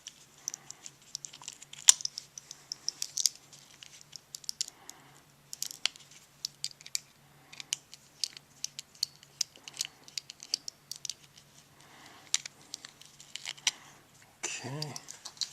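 Small screws are worked out of a Kershaw Clash folding knife with faint scattered clicks, scrapes and ticks at close range, alongside a low steady hum.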